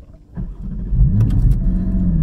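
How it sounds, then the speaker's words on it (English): A Porsche 718 Cayman GT4's 4-litre naturally aspirated flat-six starts low, then swells into a loud, rising rev as the throttle opens, ending in a strong steady growl. "That 4 litre flat 6 naturally aspirated sounds really, really good."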